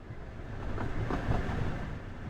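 Aboard the Aurora Express train in the game Duet Night Abyss, a steady low rumble of the moving train rolls on with a faint rhythmic clatter of wheels, close and continuous, with no voices.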